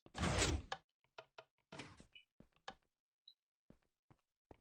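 A wooden door in the Minecraft video game, locked by a lever, gives one loud, broad thud followed by a run of short, sharp clicks and knocks spaced irregularly, close and alone.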